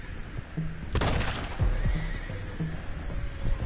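Horses in a video game give a loud, shrill neigh, followed by snorts and a few hoof clops. The sounds are close by and there is no talk over them.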